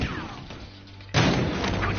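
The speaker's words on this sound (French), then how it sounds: "Coup de feu." A gunshot from the video game Battlefield Hardline bursts in loud and broad partway through, cutting in over a quieter game soundscape and followed by sustained noisy rumble.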